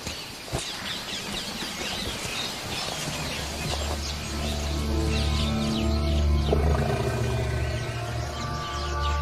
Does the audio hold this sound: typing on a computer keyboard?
no